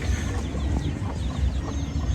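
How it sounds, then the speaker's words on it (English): A hen with her chicks clucks softly over a steady outdoor background rumble, with faint higher chick peeps scattered through; no one speaks. "I gotta show you chickens, right?"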